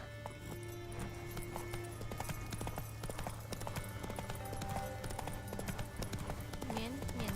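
Roach, the horse in The Witcher 3, gallops fast in a brisk, steady clip-clop of hooves over constant game ambience and music, with a faint whinny.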